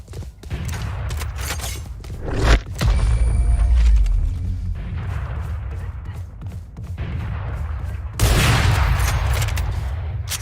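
Swarm grenade bursts from the Valorant video game, a dense crackle of repeated loud pops and booms with a heavy burst near the start and another sustained barrage later, mechanical clanks between them.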